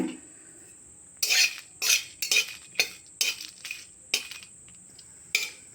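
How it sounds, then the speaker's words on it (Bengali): Dry red chillies dry-roasted in a pan for a raw mango pickle spice mix: a quiet background is broken by about ten sharp, separate metallic scrapes and clinks from a spatula against the pan. "এখন আমি লঙ্কাগুলো ভেজে নেব"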